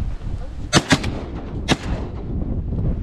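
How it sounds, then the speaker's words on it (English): Shotgun blasts during a Louisiana duck hunt on opening day: three sharp, loud reports, two in quick succession then a third a moment later, over outdoor wind and background noise. "Shoot! Nice shooting, Tex."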